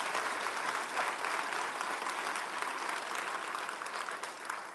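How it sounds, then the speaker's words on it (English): Town hall attendees in Antioch clap together in a steady, dense wash of applause from a sizable crowd, heard faintly at a distance but continuous from start to finish. "Let's hear you clap so we can hear you."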